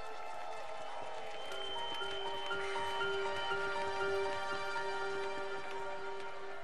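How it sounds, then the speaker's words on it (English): Crowd gathered at Chichen Itza on the spring equinox, a steady, distant murmur of many voices and faint clapping under a sustained tonal drone, continuous throughout. "The crowds at Chichen Itza are waiting for a magical transformation, which only happens here on the day of the equinox."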